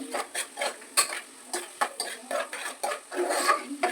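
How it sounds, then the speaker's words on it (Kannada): Onions fry in a pan while a spoon stirs them, making quick, close, rhythmic scraping strokes against the metal with a light sizzle underneath. "ಈರುಳ್ಳಿನ ಫುಲ್ ಫ್ರೈ ಆಗಬೇಕಂತ ಮಿಕ್ಸ್ ಮಾಡ್ಕೊಂಡು"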